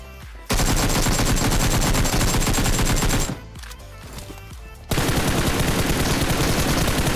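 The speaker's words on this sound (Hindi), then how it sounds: "उसी टाइम फायरिंग की साउंड आती है" Rapid automatic gunfire from a mobile shooter game, loud sustained bursts broken by a short pause before firing resumes.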